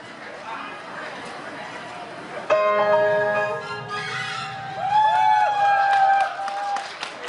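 Audience applause and crowd noise at a live K-pop stage show for a girl group, a steady wash of clapping before music starts loudly partway through and continues under the cheering.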